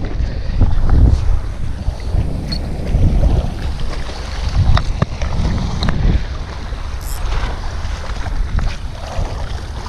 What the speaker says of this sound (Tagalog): Oh, lakas ng hangin, nabagat.